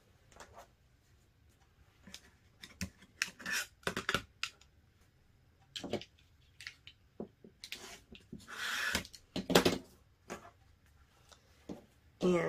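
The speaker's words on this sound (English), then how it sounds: "I could trim off the edges right now actually" Scissors trimming the edges of a sewn fabric bag flush, heard as a series of short, close crisp snips and rustles in irregular bursts with quiet gaps between, no talking.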